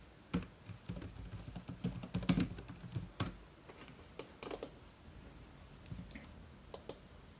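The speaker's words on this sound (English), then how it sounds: "I saved a note there because I had to type it in." Faint clicking of a computer keyboard as a short note is typed, with irregular scattered keystrokes and small bursts of taps, no talking.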